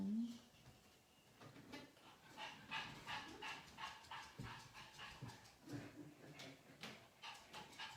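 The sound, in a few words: small dog panting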